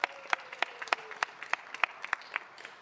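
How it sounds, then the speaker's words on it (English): Applause at a city council meeting honoring Youth Council members and their parents and guardians: scattered, fairly sparse hand claps from a modest indoor audience, individual claps standing out in an uneven rhythm. "Let's give them a round of applause."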